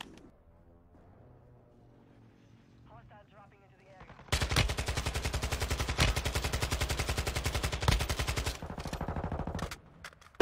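Sustained automatic gunfire in a shooting video game rattles as a long loud burst, alone, after a quieter stretch of scattered game noise, then cuts off abruptly.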